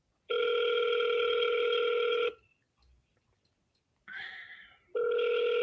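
Outgoing telephone ringback tones on a call to a real estate lead, two long steady rings separated by a short pause with a brief burst of tone in between.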